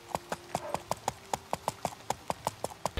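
Horse hooves clip-clop at a steady walking rhythm in the medieval game Life is Feudal, about a dozen close, evenly spaced hoofbeats with no talking.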